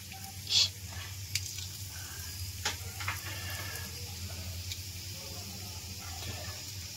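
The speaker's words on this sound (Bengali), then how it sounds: "এবার এই তেলের মধ্যেই আমি তেজপাতা ফোড়ন দিলাম, আর হচ্ছে এলাচ দিলাম" Bay leaf and cardamom pods sizzle in hot oil after eggs have been fried in it, giving a steady close frying hiss with a few sharp pops and crackles near the start.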